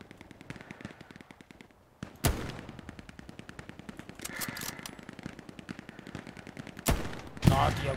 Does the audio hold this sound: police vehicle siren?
no